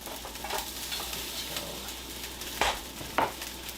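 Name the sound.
souvlaki skewers being turned while sizzling on the grill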